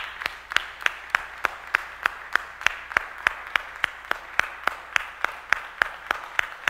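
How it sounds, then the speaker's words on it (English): A church congregation claps in unison during a worship service, sharp evenly spaced claps repeating in a steady rhythm about three per second, moderately close, with faint crowd murmur beneath and no talk over it. "Come on, clap them, clap them."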